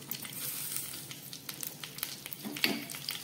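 Green chillies frying in hot oil in a kadai, a steady soft sizzle with light crackles and a brief stir near the end, close and fairly quiet, with no talk.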